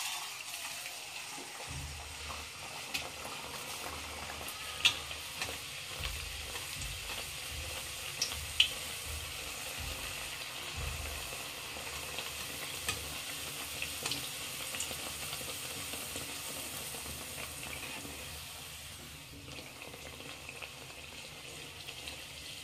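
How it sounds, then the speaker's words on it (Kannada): Jowar (sorghum) flour vadas fry in hot oil with a steady, even sizzle and bubbling that runs throughout, broken by a few small sharp pops and clicks, close and moderately loud with no talking. "ಈಗ ಇದನ್ನು ಎಣ್ಣೆ ಒಳಗೆ ಹಾಕಿ ಕರ್ಕೊಳ್ಳೋಣ ರೀ"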